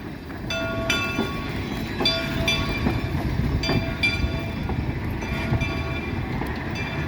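Shay steam locomotive number 2 on the Cass Scenic Railroad, a steady heavy rumble with metallic ringing clanks and squeals repeating through it, loud and close with no talk.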